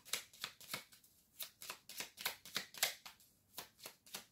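Tarot cards are shuffled in quick repeated riffling bursts, a dozen or so crisp papery flutters at a steady brisk rhythm, close and fairly quiet with no voices.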